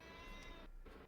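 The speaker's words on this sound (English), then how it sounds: "No, that's my cat." A half-Siamese cat meows loudly and drawn-out indoors, two close, strained calls with a brief dip between them and no talk over them.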